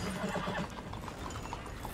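Horse hooves clip-clopping in a steady rhythm, mixed with a brief whinny, in the Western game Red Dead Redemption 2; moderately loud and close, with no talk over it.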